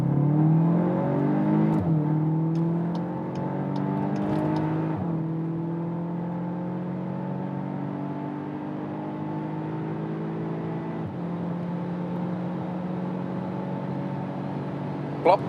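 A VW Arteon R Shooting Brake with 320 horsepower accelerates hard on a German Autobahn, its engine droning and rising in pitch through the gears, heard from inside the cabin with a steady loud whir.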